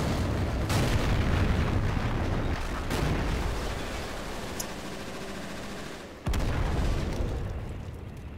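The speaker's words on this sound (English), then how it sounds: "we of course have tanks cooking off, which looks absolutely spectacular" Tanks cooking off in the AS2 war game during a Russian assault on a German supply base, a dense, continuous rumble of booming explosions and crackling bursts, with a sharp louder blast near the end and no voices.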